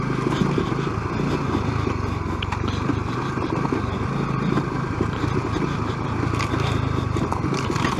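A stock 250SX dirt bike descends a rough, steep mountain trail, its two-stroke engine buzzing steadily and close with rattling and scraping over rocky ground, no voices.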